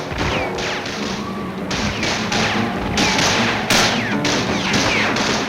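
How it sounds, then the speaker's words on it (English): Dense, chaotic crowd din at the Liberation of Paris parade near Notre Dame, with sharp gunshot cracks and thuds scattered throughout over a loud, continuous background roar. "again there was gunfire"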